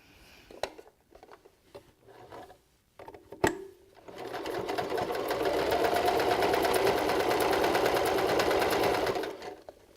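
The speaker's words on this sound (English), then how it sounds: "Now I'm going to do the two side seams." A sewing machine stitches the side seams of a beanie in black thread, running as one steady, close, rapid hum for about five seconds after a few handling clicks and taps.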